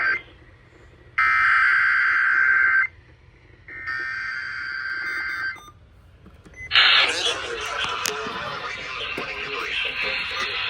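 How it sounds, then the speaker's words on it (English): A NOAA weather radio warning alert test plays two steady, piercing electronic tones of about two seconds each, separated by short pauses, followed by a harsher, noisier broadcast signal burst. "This is a test of the NOAA weather radio's warning device."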